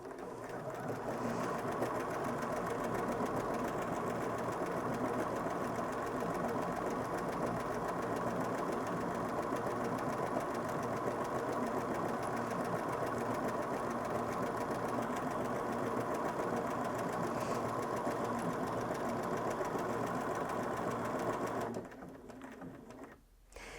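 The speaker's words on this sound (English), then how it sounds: "then I can pop my fabric underneath and then start sewing the word." A Bernina S-325 sewing machine stitches a lettering pattern into fabric, running as a steady, fast mechanical whir with a rapid needle clatter, close and continuous, then stopping abruptly near the end.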